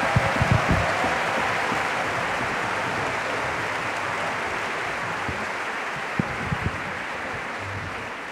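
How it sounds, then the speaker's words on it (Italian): Audience applause welcoming the conductor at a choral concert in the Vatican, a sustained even wash of clapping from a large crowd, with a few louder nearby claps standing out. "E quindi accogliamo con grande applauso"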